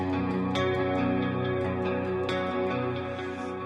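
Electric guitar ringing out through a dotted-eighth-note delay, repeated notes echoing in a galloping pattern over sustained tones.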